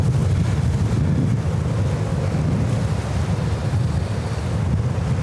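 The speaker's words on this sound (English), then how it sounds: "The wind gusts are crazy." Strong wind gusts batter a microphone outdoors at a New York airport, a loud continuous low rumble and roar that surges and eases throughout, with no voices.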